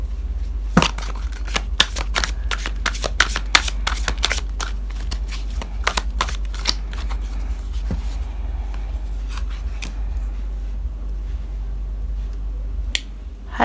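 Tarot cards being shuffled by hand, a long run of crisp riffling snaps and flutters, close and fairly loud over steady low background hum, with no talking.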